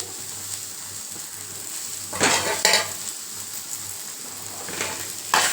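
Onions sizzle softly in a hot pan, with a few louder bursts of stirring and scraping.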